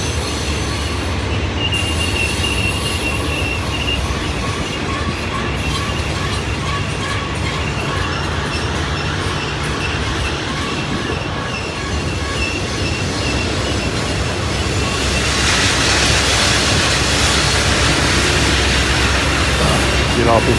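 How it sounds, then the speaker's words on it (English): Long freight train rolling downhill at Horseshoe Curve, with a steady heavy rumble, grinding wheel noise and high squeals from braking, the roar swelling louder near the end; no talk is heard. "Got a double rumble on the back of the train coming down the hill right now."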